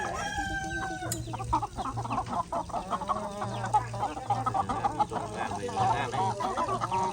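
Chickens on a Thai farm field cluck and call in a busy, continuous flock chorus with a rooster crowing briefly near the start, close and fairly loud, over steady outdoor background noise.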